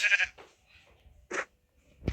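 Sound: sheep bleating in a video game

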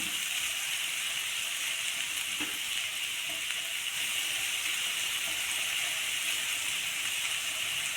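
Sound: onions sautéing in a pan

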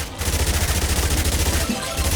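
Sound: bombs exploding along the ground in Yet Another Zombie Survivors video game

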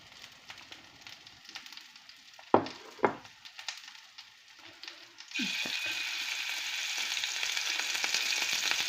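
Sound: veal liver frying in a pan

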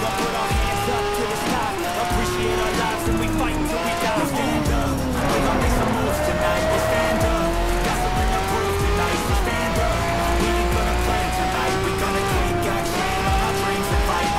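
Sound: race car driving on circuit, from video game Need for Speed Shift

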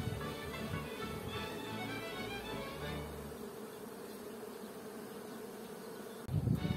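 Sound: honeybees flying around a beehive

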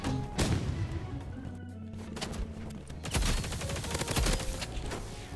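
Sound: weapon fire in the video game Roblox Rivals

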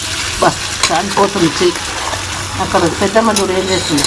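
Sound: cooked rice added to hot curry-leaf tempering, sizzling

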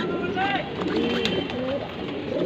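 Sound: maxi racer pigeons cooing

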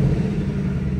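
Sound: 2021 Ford Mustang GT 5.0 engine revving

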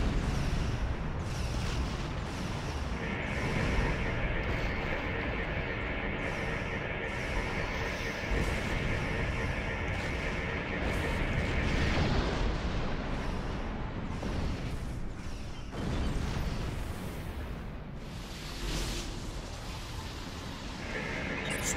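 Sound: station plasma lance firing in Star Trek Online video game

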